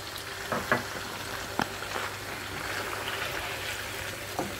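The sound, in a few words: garlic ginger paste frying in a pan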